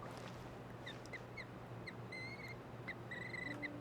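Birds in Genshin Impact give a series of short, faint quacking calls in uneven bursts over a quiet low hum, some calls clustering in quick pairs.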